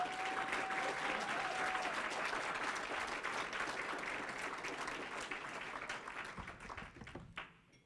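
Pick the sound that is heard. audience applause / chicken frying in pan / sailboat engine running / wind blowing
audience applause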